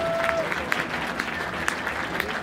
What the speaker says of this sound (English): If you give him a consolation round of applause,